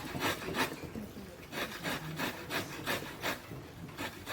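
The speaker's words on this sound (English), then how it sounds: "I don't mind using the box grater like this." Vegetables grated on a box grater in a cooking class kitchen, a steady run of rasping strokes about two per second, close and fairly quiet, with no talking.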